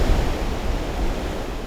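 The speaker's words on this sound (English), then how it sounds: "the sound of the waves" Ocean waves roll onto the Oregon coast, a broad, steady surf wash with a soft swell and fade, close and fairly loud with no voices.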